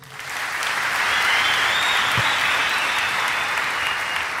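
An indoor audience claps loudly and continuously, a dense, even wash of applause that swells in and holds steady for several seconds with no voices standing out.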